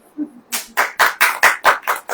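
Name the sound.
congregation clapping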